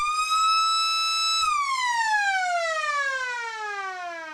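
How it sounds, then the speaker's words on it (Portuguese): A loud, steady flood warning siren wails on one high tone, then its pitch slowly winds down as the sound continues, with no voices. "E a sirene é acionada."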